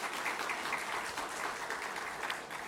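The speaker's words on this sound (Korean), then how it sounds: "우리 하나님께 영광의 박수 올리겠습니다" A congregation at a Korean Sunday church service gives a round of applause, a soft, continuous patter of many hands heard faintly and at a distance for a few seconds.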